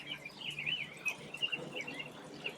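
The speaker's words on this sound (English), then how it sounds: "The birds are quite happy today, aren't they?" Birds chirp and tweet steadily in the background, a busy, fairly faint chorus of high calls with no one speaking.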